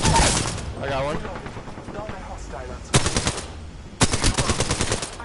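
Rapid bursts of gunfire in the battle royale shooter Apex Legends, two sharp automatic volleys near the end after a stretch of quieter game sounds, with a player speaking during the clip.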